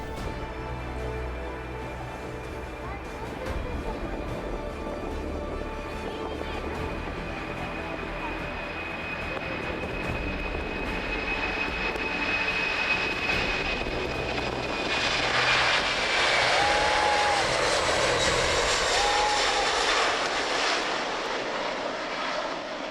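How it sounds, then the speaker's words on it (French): A Boeing 747-128 jet airliner roars steadily as it takes off, engine noise building and brightening into a loud, sustained whine before easing off. "Un 747-128 au décollage, ça donne ça."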